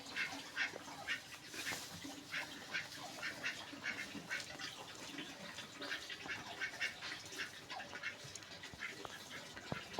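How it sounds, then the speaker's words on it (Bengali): Village ducks quack in repeated, uneven bursts throughout, fairly faint and slightly distant, with no talking. "হাঁসগুলা কত সুন্দর"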